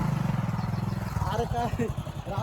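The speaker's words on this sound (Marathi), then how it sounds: "आता आम्ही निघतोय बाईक घेऊन" A motorcycle engine runs close by with a steady rumble that shifts as the bike begins to pull away, while people talk over it.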